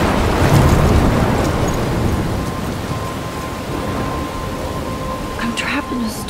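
Thunderstorm with wind, heavy rain and crashing waves in Life Is Strange, a loud continuous roar with rumbling thunder, fading slightly midway, with faint tonal sounds near the end.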